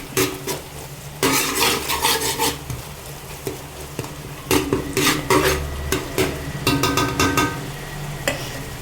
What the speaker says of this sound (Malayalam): എല്ലാം കൂടി ഒന്ന് മിക്സ് ചെയ്ത് നന്നായിട്ട് ഇളക്കി യോജിപ്പിച്ച് എടുക്കുക